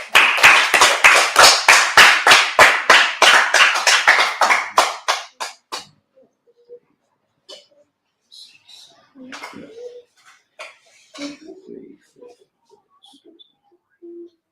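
Audience at a Feast of First Fruits gathering clapping in quick rhythmic unison for about five seconds, then fading into scattered quiet taps and faint background sounds.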